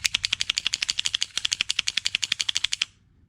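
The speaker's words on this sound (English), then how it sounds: "you're going to take the gun and you're going to rack it a whole bunch of times" An Action Army AAP-01 gas blowback airsoft pistol slide is racked rapidly around thirty times in a steady, even rhythm of sharp metallic clacks, loud and close, stopping abruptly near the end.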